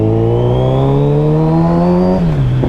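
A Kawasaki Z900RS motorcycle engine under way, loud and close from the rider's seat, a smooth rising drone that climbs steadily in pitch and then drops as the revs fall.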